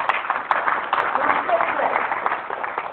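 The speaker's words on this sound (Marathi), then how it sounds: "टाळ्या." Scattered hand claps from a gathered audience at a village talk, soft and uneven against a voice speaking throughout.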